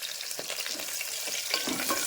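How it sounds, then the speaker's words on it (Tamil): Onion frying with cinnamon, cloves and star anise in hot oil, a dense crackling sizzle heard close up with a few stirring scrapes, no voices. "அது கருகிறதுக்கு முன்னால் வெங்காயம் போட்டு"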